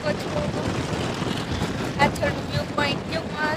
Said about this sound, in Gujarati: જો બહુ પવન આવી ગયો છે